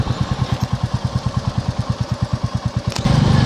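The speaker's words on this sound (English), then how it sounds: "Might be the only motorcycle out there today." A motorcycle engine thrums in fast, even pulses while riding on a cold day, close and steady, with a slight change in tone near the end.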